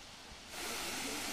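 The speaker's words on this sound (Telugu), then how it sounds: "ఇదే వాటర్ ఫాల్స్ మొదటి భాగం" Mettuguda waterfall near Araku in Seethampeta's forest country, a soft, steady rush of falling water swelling in after a brief quiet moment and holding evenly, faint and distant, with no voices.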